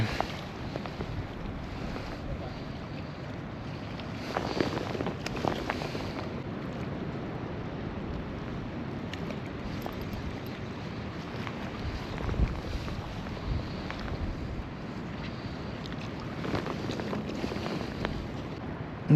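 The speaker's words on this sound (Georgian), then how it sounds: "დიდად ქარი ხელს არ მიშლის" Steady wind blows across the shore of a park lake in Rustavi during shore fishing, making continuous rushing buffeting noise on the microphone with stronger gusts throughout.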